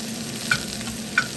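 A chicken marinade stirred in a bowl after sugar and seasoning go in: a steady, close scraping swirl with two brief clinks of the utensil against the container, no talking.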